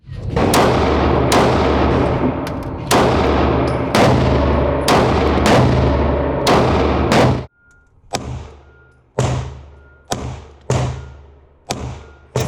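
Gunshots ring out at an outdoor shooting range, a rapid string of loud, sharp reports with ringing tails, then a short pause followed by several more spaced single shots.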